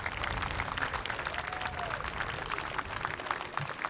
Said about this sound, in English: You know, they really do appreciate a round of applause.